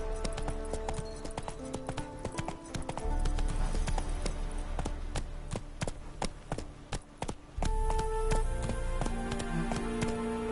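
The horse Roach gallops in a video game, a steady near rhythm of hoofbeats on ground running throughout, with background music and a brief change in footing midway.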